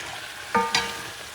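Puerto Rican chicken stew is stirred in hot grease, with two quick scraping stirs over a faint steady sizzle, close up and with no voices.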